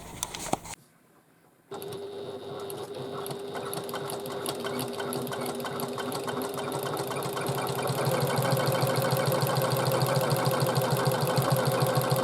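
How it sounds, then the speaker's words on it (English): A sewing machine stitches along a bag panel at a quarter-inch seam allowance; after a click and a short pause it starts up and runs steadily, its rapid rhythmic whir growing slightly louder. "And we're just going to stitch along there at 1/4 of an inch seam allowance."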